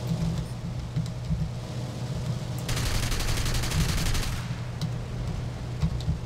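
Rapid, continuous machine gun and cannon fire crackles over a steady aircraft engine drone in War Thunder, with a dense burst of firing in the middle stretch before easing back.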